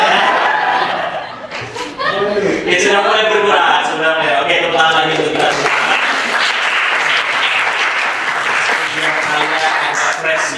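Participants in an Indonesian university teaching-certification session clap along in a led pattern of double and single claps. Bursts of clapping come close and loud amid laughter and chatter, with a speaker's voice running through much of it.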